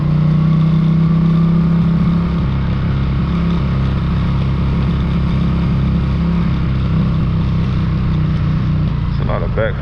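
A 1979 Honda CX500 motorcycle engine drones loud and close while riding, a steady low hum with slight rises as it revs, and a short rattling burst near the end.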